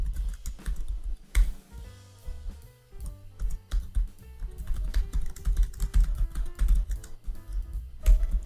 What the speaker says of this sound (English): You can type a description of your blog